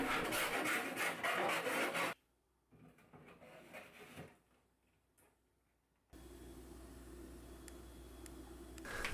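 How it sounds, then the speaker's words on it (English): Burrs are filed off the edge of a plastic controller enclosure in a series of close, rapid rasping strokes. Quieter gaps fall between the bursts, and a steady hum returns near the end. "Any remaining burrs can be filed away."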